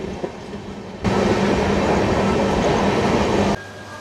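Hampi Express train running as it arrives at Ballari, a steady loud rumble of rail and wagon noise with clickety-clack swelling from about one second and easing near the end.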